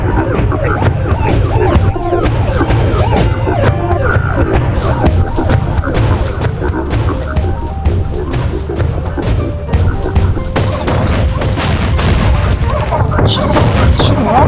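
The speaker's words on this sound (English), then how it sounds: "Shooting rockets at me." Rockets fire and explode in the video game Lethal Company, a string of heavy booms and thuds hitting in an irregular rhythm throughout, loud and close over a dense background of game noise.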